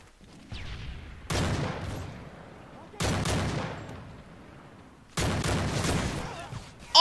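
Call of Duty MW3 gunfire in three sharp loud bursts of automatic shots, each decaying into a brief echoing tail with quieter gaps of game ambience between them.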